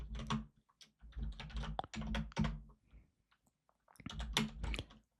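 Bursts of rapid keystrokes on a computer keyboard as Cisco switch passwords are entered, clattering close and clear in several quick runs separated by brief pauses, with no speech.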